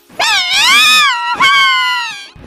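A cat wails in pain in a horror tale, two long harmonic cries close and loud, rising and bending in pitch, the second following a brief break and trailing off.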